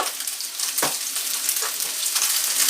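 Chicken pieces sizzle and fry steadily in a hot pan for chow mein, a dense continuous crackle with a few stirring scrapes, close and fairly loud, no talking.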